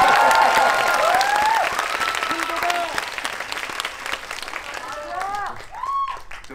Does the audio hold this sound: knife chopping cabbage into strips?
no